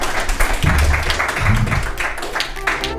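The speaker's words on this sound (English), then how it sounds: "Round of applause for Mr." An audience at a business networking event giving a round of applause for a guest, a short burst of dense clapping, fairly loud and close, with a voice briefly underneath.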